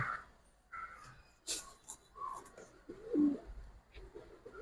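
Giribaz and colored pigeons coo softly in a loft, low throaty murmurs with a few wing rustles and small knocks, quiet and close.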